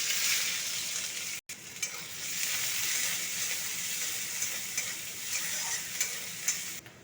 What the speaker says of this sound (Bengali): পেঁয়াজটা ভাজা ভাজা হয়ে আসছে